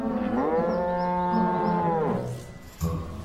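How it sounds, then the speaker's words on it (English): A cow gives one long, drawn-out, low moo that holds steady and then slides down at the end, loud and close, with no talking. "you're a lovely cow"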